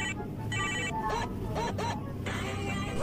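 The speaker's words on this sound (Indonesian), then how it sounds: "Tuh, anu nelpon geuningnya." A telephone rings with an incoming call in a comedic Sundanese short film, repeated electronic ring bursts sounding loud and near over a background hum.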